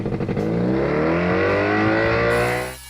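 The engine of a 1960s hover scooter runs at about 5,000 revs, a loud, steady droning whine climbing in pitch as it revs up, close and continuous, then cutting off abruptly at the end.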